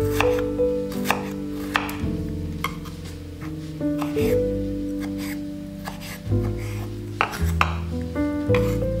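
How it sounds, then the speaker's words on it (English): A knife chops radish into half slices on a board in a steady series of close, crisp taps, with background music playing throughout and no speech. "Cut the radish into half slices."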